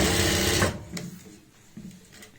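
An electric sewing machine runs in a fast, loud whirring burst while stitching a border strip onto a simple neckline, then stops abruptly, leaving a few light mechanical clicks and handling noises.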